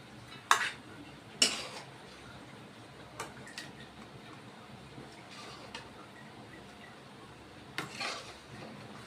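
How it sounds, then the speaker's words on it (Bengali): Metal utensils clink and scrape as chalta chutney is moved into a silver steel bowl, sharp isolated knocks and taps spread through an otherwise quiet kitchen. "চাটনি না এই সিলভারের বাটিতে নামাতে হয় তা এখন আমি নামিয়ে দিচ্ছি"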